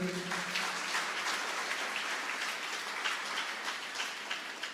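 A church congregation claps together during a Sunday sermon, a dense, even wash of many hands that stays steady and fairly distant for the whole stretch.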